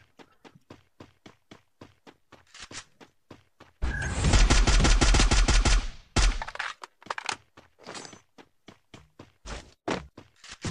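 Rapid gunfire in a shooter video game: a dense, loud burst of automatic fire in the middle, surrounded by steady rhythmic footstep-like thuds and scattered shots.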